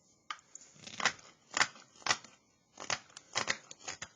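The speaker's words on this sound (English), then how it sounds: "here's like a great scooping cut right here" A Mora 162 hook knife carving scooping cuts into the bowl of a wooden spoon, giving a series of short, crisp scraping strokes in an irregular rhythm, close and quiet with no talk.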